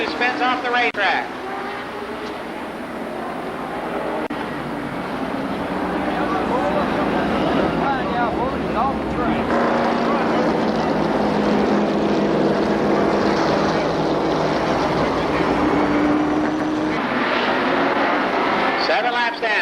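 Super late model race cars at Columbus Motor Speedway: a steady, loud engine drone with sweeping pitch changes as the pack circles, continuing for the whole stretch while an announcer talks over it.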